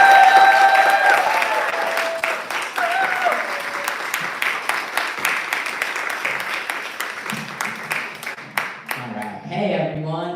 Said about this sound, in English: Please, applauses.